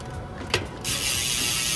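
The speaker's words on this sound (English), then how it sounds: "Profile also gave me the Profile Z coaster, titanium spindle, titanium driver." A Profile Z coaster BMX hub with titanium driver and spindle spins freely, giving a close, steady rasping whir after a brief click.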